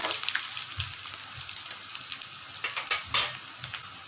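Prawn thokku masala fries in a pan with a bright, steady sizzle, broken by a few close stirring scrapes and soft knocks of a spoon.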